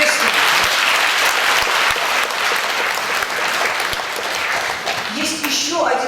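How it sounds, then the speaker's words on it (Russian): A hall audience applauds the orchestra before the opera Chanar Khus, broad steady clapping that holds strong for several seconds and then thins slightly near the end. "Аплодисменты оркестру."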